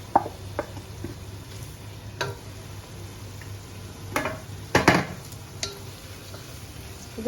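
Onion, crushed garlic, ginger and green chili sauté in hot oil, a soft steady sizzle under scattered clinks and scrapes of a spoon stirring against the pan.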